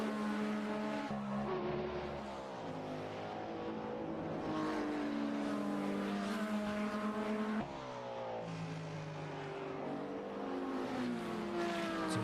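Hypercar engines scream around the Fuji circuit in a sim racing esports event, a continuous loud high-pitched whine rising and falling through gear shifts as cars accelerate and brake.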